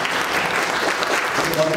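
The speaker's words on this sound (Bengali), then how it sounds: "তোমাদের জন্য খুব জোরে হাততালি দিতে হবে তো" An audience at a juvenile justice course programme claps for a presentation, a dense, continuous burst of many hands applauding loudly in a room.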